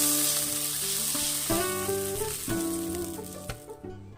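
Chopped tomatoes and water go into a pan for a light Bengali pabda fish curry, setting off a steady loud sizzle with bright clinks and stirring scrapes near the microphone, no talk.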